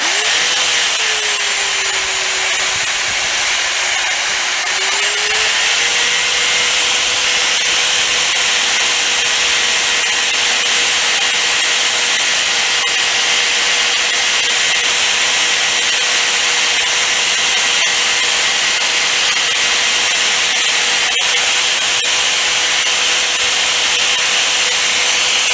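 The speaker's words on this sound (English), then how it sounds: "I'll show you this short clip of me buffing with the scrubby wheel" Scrubby buffing wheel grinds against a rusted MORCO pipe wrench, a loud, continuous abrasive hiss over a steady motor whine that holds for the whole stretch, with no voices.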